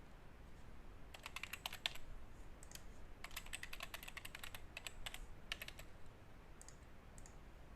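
Login details being typed on a computer keyboard: quiet bursts of quick key clicks in several short runs with brief pauses, close and crisp over a faint room hiss.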